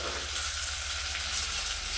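Tomato tipped into onions already frying in a pan on a home stove gives a steady, close, loud sizzle with a constant low hum underneath and no speech.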